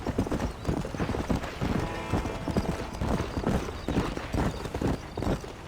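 A horse galloping in Red Dead Redemption on PC, rapid rhythmic hoof clip-clops close by and steady throughout, with faint snorts under the hooves.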